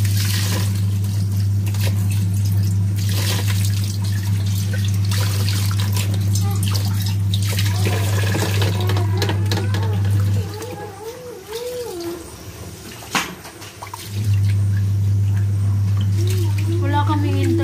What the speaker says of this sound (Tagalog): Sinsya na kayo maingay, naglalaba rin ako.